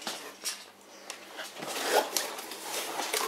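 A small knife slices and tears open the packaging of a BergHOFF Virgo 26 cm Dark frying pan, giving close, scratchy rasps and rustles in short bursts with no talking.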